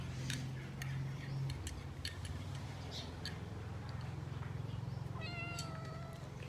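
A cat meows near the end, a drawn-out tonal call, after a stretch of light ticking and clinking sounds with a low hum beneath.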